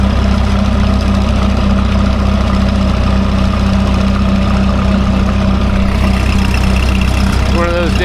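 A tractor engine idles steadily at close range, a low constant rumble running throughout on a morning drive to a Fourth of July parade and small show.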